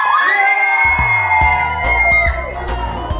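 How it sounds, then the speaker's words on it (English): A choir group of young people bursts into loud, close cheering, with whoops and shouts from the crowd over a sustained high yell. "That was a weak cheer. Can we do that again?"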